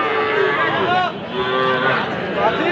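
A young bull calf moos in drawn-out, wavering calls, fairly close, amid the general noise of a busy cattle market.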